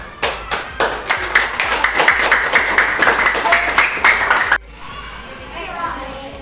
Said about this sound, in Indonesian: Tepuk tangan untuk kelompok Kenner